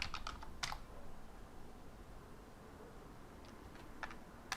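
A password is typed on a computer keyboard, a few quiet, close key clicks in two short bursts over a faint background hiss.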